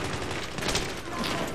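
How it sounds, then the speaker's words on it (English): Dense, steady rush of combat noise from shotgun fire in the video game Battlefield 3, a continuous loud wash without clearly separated blasts. "Shotgun is exactly what I need."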